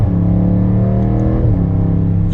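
A 2020 BMW M8 Competition pulling in second gear under added throttle, its engine holding a loud, close, rich drone that climbs steadily in pitch, dips briefly as if shifting, then keeps building.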